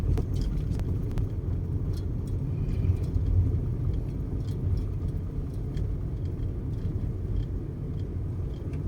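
Road traffic rumbles continuously near Father Orius High School, a steady low roar of passing vehicles with a few faint clicks on top.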